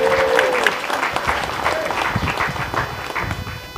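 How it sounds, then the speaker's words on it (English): Audience applause at a university academic building grand opening in Crown Point, New Mexico, a dense, steady clapping wash from a crowd that holds for the whole stretch, with some voices mixed in. "Let's give him a round of applause."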